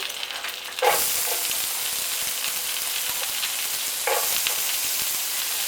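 Sausages and onion fry in a pan with a steady, close sizzling hiss that swells sharply as the onion goes in, with a couple of faint stirring knocks.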